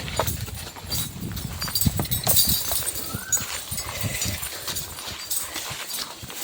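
Horses hauling coconuts in Tayabas, hooves clip-clopping in an uneven walking rhythm on the ground, close and moderately loud, mixed with snorting and rustling outdoor noise.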